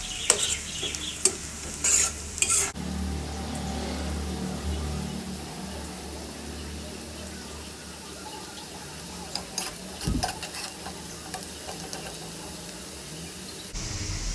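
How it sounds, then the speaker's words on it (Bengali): Onions stir-frying in a pan at home, a steady close sizzle with scraping and stirring clatter near the start and again around the middle, alone without talk. "পেঁয়াজগুলোকে একটু লাল লাল করে ভেজে নেব"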